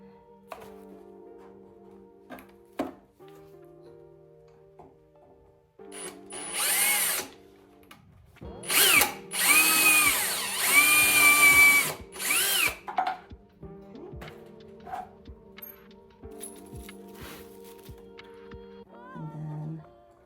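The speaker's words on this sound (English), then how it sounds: "Let me do the pilot hole." A power drill bores a pilot hole into the wood of a quilt box for a beehive, several loud close bursts of whining motor and biting bit, with quiet handling noises between the bursts.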